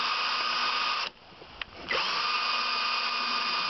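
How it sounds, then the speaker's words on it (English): A power drill boring down through a plastic ledge for a cave background, a loud steady whine that stops for about a second with a small click, then starts again and runs on. "then drill down through the ledge here"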